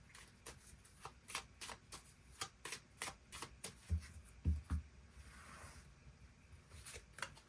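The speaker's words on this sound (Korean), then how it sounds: "추가 카드 뽑아보도록" Tarot cards are shuffled in quick, crisp riffles and soft slides, close and fairly quiet, with a few dull taps as the deck is handled before extra cards are drawn.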